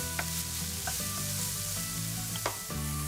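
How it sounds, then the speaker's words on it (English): Cauliflower tossed with sriracha hot sauce sizzles in a frying pan, with a few scraping stirs of a utensil against the pan over the steady frying hiss, close up and with no talking. "I'll just stir it around long enough for it to totally coat the cauliflower"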